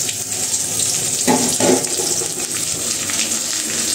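Tap water runs steadily into containers, a continuous close rushing stream with a brief heavier splashing surge near the middle; no one speaks.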